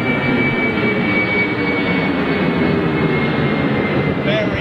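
A jet airliner on a heavily derated takeoff at Gatwick Airport, a loud steady roar of engines filling the whole stretch without letting up.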